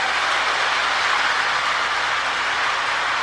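A Lionel model train, a custom Erie Lackawanna FA diesel, runs steadily along its track with a continuous, fairly loud rolling rumble and hiss throughout, no talking.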